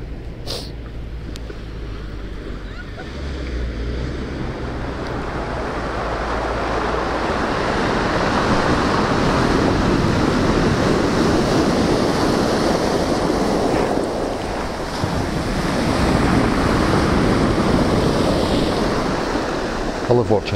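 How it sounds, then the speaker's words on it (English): Ocean waves break on the shore in wind, a broad, rushing wash that swells and eases over about twenty seconds, with gusts buffeting the microphone throughout. "I love watching the sea."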